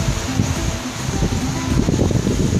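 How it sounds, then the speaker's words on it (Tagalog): Strong wind roars and buffets the microphone in gusty, rumbling bursts at Bulabog Beach, Boracay, with no voices. "malakas ang hangin dito ngayon sa Bulabog Beach"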